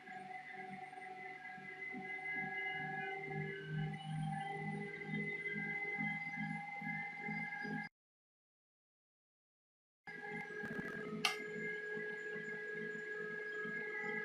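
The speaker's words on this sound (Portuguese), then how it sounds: "Vou diminuir a velocidade da minha batedeira." A stand mixer whirs at a lowered speed while beating sponge cake batter, giving a steady motor hum that cuts out for about two seconds midway and then resumes.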